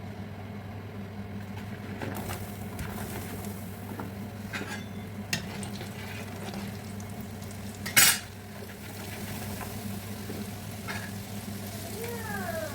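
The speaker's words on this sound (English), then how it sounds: "So we're going to fry it 2 times" Peanuts frying in oil in a pan, a quiet steady sizzle with a low hum beneath, punctuated by occasional light stirring clinks and one sharper scrape of a utensil against the pan.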